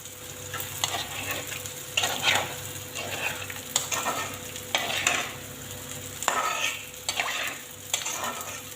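Spices for an eel curry frying in a pan, a steady sizzle broken by regular scraping strokes of a spoon stirring roughly once a second, close and fairly loud, with no talk.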